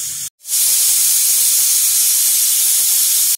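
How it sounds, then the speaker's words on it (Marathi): Pressure cooker whistle while cooking whole masoor usal, a loud, steady, close hiss of escaping steam that starts after a brief gap and runs on unbroken to the end. "ह्या बघा, इथे आपल्या शिट्या होत आहेत"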